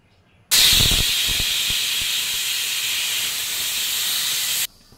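A pressure cooker on the stove, cooking potatoes for a poori-and-potato meal, lets out a loud, sustained whistle of hissing steam for about four seconds, then cuts off abruptly.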